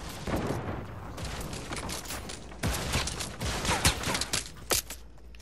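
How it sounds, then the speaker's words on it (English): In a video game, a minigun fires in sustained rapid bursts, a dense rattling barrage that pauses briefly and then resumes with several sharper, louder volleys near the end. "Is that a minigun or what?"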